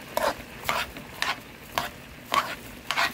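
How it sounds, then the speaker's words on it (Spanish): Garlic being stirred and sautéed in a pan with seasonings while rice with jamonilla is cooked, giving about six short scraping, sizzling strokes in a steady rhythm, close and moderately loud with no talking. "Vamos ahora a unir este ajo con estos colorcitos y sabores"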